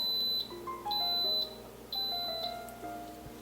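An Instant Pot beeping as its saute mode switches on, a run of several short, clear electronic tones at different pitches, loud and close.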